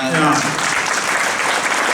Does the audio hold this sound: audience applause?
yes